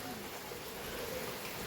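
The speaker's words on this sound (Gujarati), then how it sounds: "બાકી તો વરસાદ આવે છે" Steady rain falling outdoors, a continuous dense hiss of drops on surfaces filling the whole moment, even and fairly close with no clear voices.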